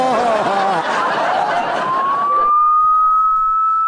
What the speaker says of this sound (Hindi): पुलिस, पुलिस का सायरन बज रहा है।